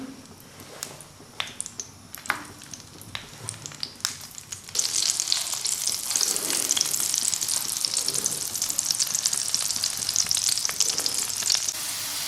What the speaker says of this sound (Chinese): 下面开始烙饼